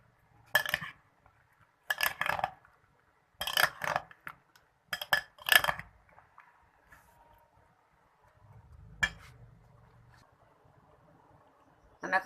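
Spoon clinking and scraping against a bowl while creamy fruit chaat is stirred, in several short bursts of mixing separated by pauses, close and fairly clear with no talking.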